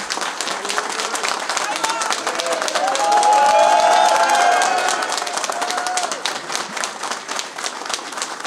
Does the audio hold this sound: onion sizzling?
no